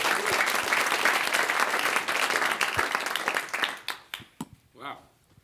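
A conference audience applauds loudly for several seconds, the clapping thinning out and fading as a voice begins speaking near the end.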